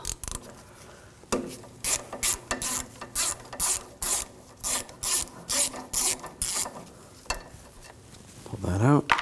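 A 10mm socket ratchet clicks in regular bursts while removing the thermostat housing bolts on a 2007-2013 BMW 328i 3.0L, about a dozen close, crisp ratcheting strokes in quick succession.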